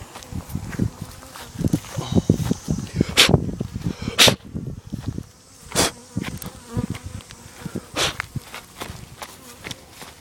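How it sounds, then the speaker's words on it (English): Bees buzz around an open hive close by, a fluctuating drone with bursts as individual bees fly past, mixed with handling knocks and rustles. "Got a couple bees here."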